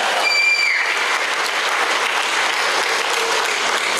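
Audience applause at a team business meeting, steady dense clapping from a crowd that carries on loudly for about four seconds with no break.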